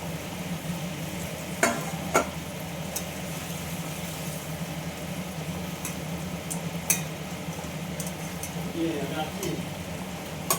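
Fish sizzling as it goes into hot oil in a pan with a dried red chilli, a low steady crackle under a faint hum, with a few sharp clicks and spatters along the way.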